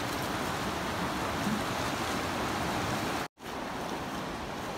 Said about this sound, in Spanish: El agua es helada porque es de deshielo, pero tiene su magia el sonido